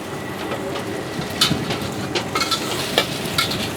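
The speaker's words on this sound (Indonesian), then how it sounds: "bawang putih kita tumis biar wangi, masuk telur diorak-arik" Garlic and scrambled eggs fry in a pan for Hainan fried rice, giving a steady close sizzle with a few sharper clicks from stirring utensils and no voices.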